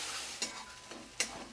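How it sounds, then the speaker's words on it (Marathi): Ground masala paste sizzles and fries in a pan for a Maharashtrian soya chunks gravy, a low steady sizzle broken by two sharp scraping stirs, close and without talk. "चांगलं भाजून घ्यायचं।"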